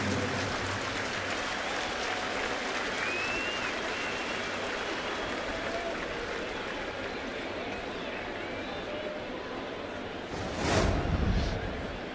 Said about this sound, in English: the crowd will give CC a hand